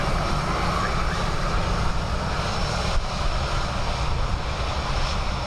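An aircraft lands at Dublin Airport on a windy day, with a loud, steady engine roar and no other sound.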